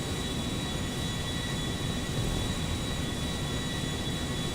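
Steady, loud engine roar of a Boeing 747 airliner in GTA Online, an unbroken wash of jet noise with a thin tonal whine riding above it, with no voices.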